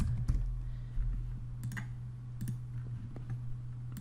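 Quick bursts of typing on a computer keyboard, light close clicks in irregular clusters over a steady low electrical hum.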